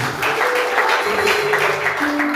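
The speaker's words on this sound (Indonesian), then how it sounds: "Berikan tepuk tangan buat Tuhan Yesus." A church congregation claps for Jesus during an Indonesian sermon, with dense, steady applause filling the space and a faint sustained tone running beneath it.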